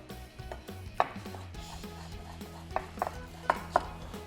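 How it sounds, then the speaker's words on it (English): A knife chops fresh coriander on a board with a handful of soft, irregular taps, quiet and close, picking up in a brief flurry near the end. "So some coriander, which we'll chop up."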